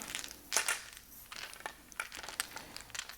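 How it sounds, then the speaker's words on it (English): Mah jongg tiles being shuffled by hand on a table give off a quiet, irregular run of clacking and rattling clicks, with a few louder bursts among softer scrapes. "Let's rebuild this hand by putting the tiles down, putting the card away, and shuffling."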